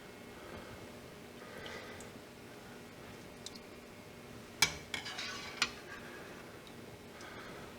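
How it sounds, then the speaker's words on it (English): Homemade cream cheese in progress as cheese curds are ladled into a cheesecloth-lined strainer, with a few soft metallic clinks of the ladle against the pot amid quiet kitchen stillness. "we're going to ladle the curds out and put them in a cheesecloth lined strainer"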